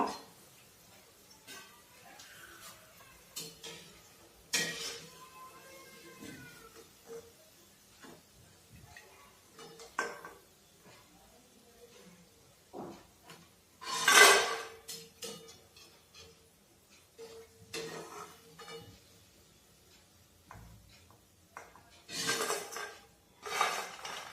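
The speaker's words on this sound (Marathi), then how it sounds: "आता आपण काढून घेऊया।" Fried moong dal bhaji lifted out of a pan with metal utensils, producing scattered close clinks and scrapes against the pan with a faint sizzle, separated by quiet pauses.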